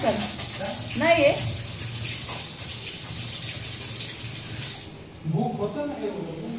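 Steady rush of water running from a household tap in a home kitchen, a constant hiss lasting several seconds before stopping abruptly, with people talking over it and after it.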